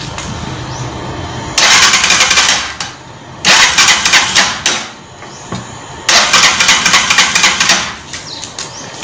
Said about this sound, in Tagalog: So, paandarin ko na.